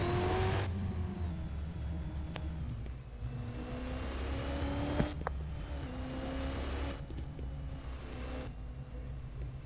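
A car engine in the Car Driving School 2017 video game accelerates from 0 to 30, a steady droning whir that rises in pitch through several gear-like steps, fairly quiet with no talking.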